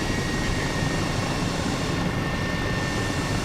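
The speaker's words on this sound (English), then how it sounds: "it's not exactly where you want to land the helicopter" An H135 helicopter in Microsoft Flight Simulator, on the flight from Nice to Monaco, gives a steady loud rotor and turbine roar that holds even through the whole landing with no talk over it.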